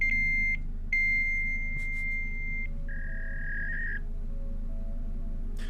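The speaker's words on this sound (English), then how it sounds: "And if you call it, it's a fax line." Fax line answer tone heard after dialing a fax number: a steady, high electronic beep that holds for a couple of seconds, pauses, then returns as a slightly lower sustained tone, over a low constant hum.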